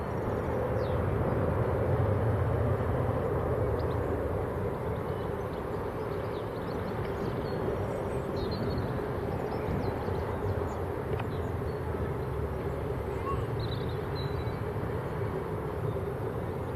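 An aircraft taking off at Leeds Bradford Airport makes a sustained, distant engine roar that swells slightly early and then holds steady, with faint bird chirps over it and no talking.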